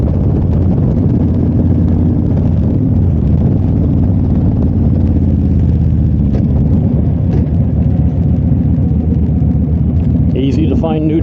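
A 2005 Victory Hammer motorcycle engine drones steadily while riding, a loud, constant low rumble mixed with heavy wind buffeting throughout, with a brief higher note near the end.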